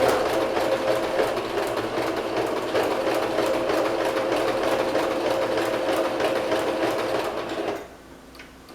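A sewing machine stitches slowly along a marked line on a child's dress, a steady humming rattle with even rhythm that stops near the end.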